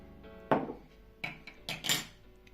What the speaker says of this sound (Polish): Całość oczywiście mieszamy.